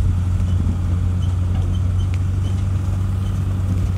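A truck driving off-road around a family farm homestead, its steady low engine drone running continuously and fairly close, with faint intermittent rattles above it.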